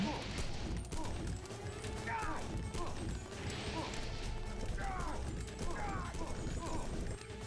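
An enemy's gunfire in Deus Ex rattles in short mechanical bursts over a constant hum of game ambience, moderately loud, with occasional clanks and scrapes.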